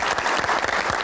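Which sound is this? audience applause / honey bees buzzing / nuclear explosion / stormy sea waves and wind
audience applause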